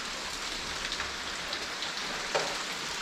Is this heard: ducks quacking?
no